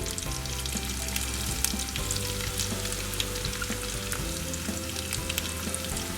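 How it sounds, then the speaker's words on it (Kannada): Baby potatoes coated in tandoori masala powder roast in a pan, giving a steady close sizzle of frying with occasional light stirring scrapes throughout and no voices. "ಇದನ್ನ ಇವಾಗ ಚೆನ್ನಾಗಿ ರೋಸ್ಟ್ ಮಾಡ್ಕೋತೀನಿ"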